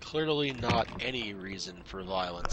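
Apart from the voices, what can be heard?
None of the usual background noises is heard.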